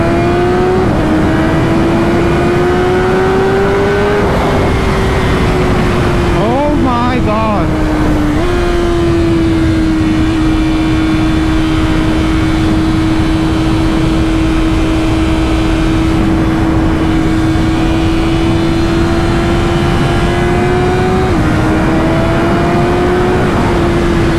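A stock BMW S1000RR superbike pulls hard under heavy acceleration, its loud engine note rising steadily between a few quick gear shifts, with constant wind roar from riding at speed.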